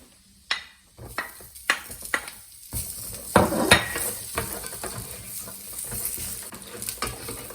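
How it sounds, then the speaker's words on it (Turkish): Apricots tipped into a pan of almonds sizzling in browning butter bring a run of sharp clinks and knocks of utensils against the pan over a soft sizzle, with no talking. "Ve tereyağı daha da yanmadan kayısıları ekliyorum."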